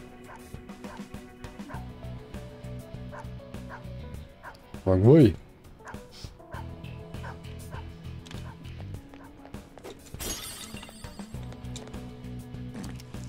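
A dog in the video game Persona 5 Royal barks in a brief loud burst against continuous game music and effects, while a voice speaks briefly nearby.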